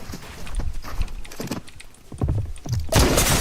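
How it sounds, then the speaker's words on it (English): Krusty's punchy sidearm firing in Fortnite, a string of close, punchy thudding shots in uneven bursts, ending in a louder, broad blast that could be the balloon explosion. "Krusty's punchy sidearm with good damage and a medium recoil creates a balloon explosion on the first bullet in the clip"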